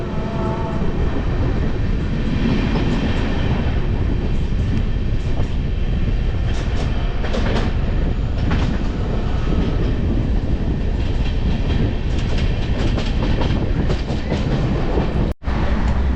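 The 22588 Benaras–Sealdah Amrit Bharat Express runs near Madhupur, a loud steady rumble heard from inside a general-class coach with rhythmic wheel clatter, ending in a brief sharp break.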